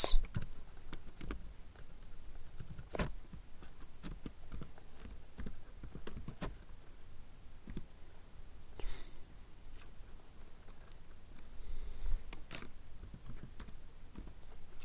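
Keywords being typed on a computer keyboard, irregular soft key clicks with a few sharper taps and pauses, close and fairly quiet, with faint breathing.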